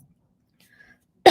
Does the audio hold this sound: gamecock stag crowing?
no